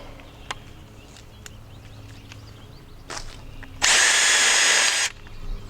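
Power drill driving a set screw into a pre-drilled hole in a stub piece of a waterfowl hunting blind hoop: a loud, close whir lasting just over a second after faint handling clicks and knocks.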